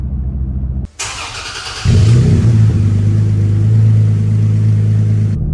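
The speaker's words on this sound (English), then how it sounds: "That is the aftermarket dual exhaust" After a brief gap, a Toyota Tacoma pickup's engine cranks and catches, then settles into a loud, deep, throaty idle from its aftermarket dual exhaust that rumbles steadily nearby.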